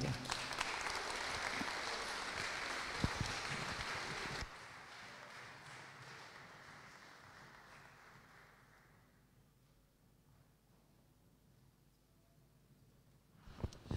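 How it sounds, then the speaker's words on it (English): A church congregation at a Sunday service gives a round of applause, a full, loud wash of clapping that drops off sharply partway through and thins to a quiet room tone, with a few faint claps returning at the end. "Let's give him a clap."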